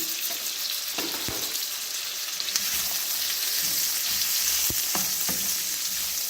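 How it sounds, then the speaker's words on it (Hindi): Onions frying in a pan for a stuffed tinda (round gourd) dish, a steady close sizzle with occasional stirring clicks and scrapes throughout, no voices. "इसी तरह से मैं प्याज फ्राई करके फिर आपको बताती हूँ इसका नेक्स्ट क्या प्रोसेस है।"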